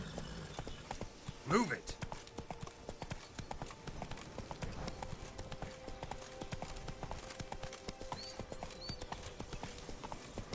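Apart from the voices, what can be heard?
Roach the horse's hooves galloping in video game The Witcher 3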